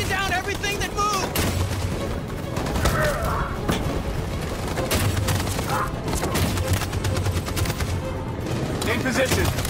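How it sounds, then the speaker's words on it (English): Machine gun fire in Detroit: Become Human rattles on without a break through a loud battle, with dense bursts, booming impacts and shouting voices mixed in. "That machine gun has taken down everything that moved!"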